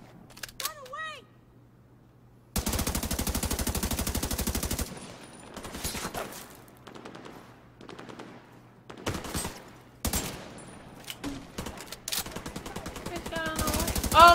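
Automatic gunfire in the video game The Division 2 rips out in a long sustained burst, then comes back in shorter volleys. A person talks and exclaims in between.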